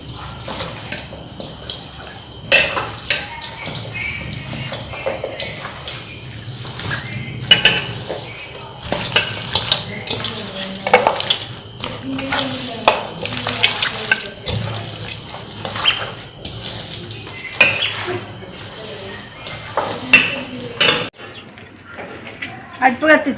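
Ingredients for a Chalakudy dum biryani are stirred and mixed in a pot, with clinks, scrapes and knocks of a utensil against metal. Running water and rinsing noises continue underneath, steady and close throughout.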